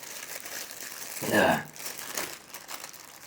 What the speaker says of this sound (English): Actually, let's just unwrap them here.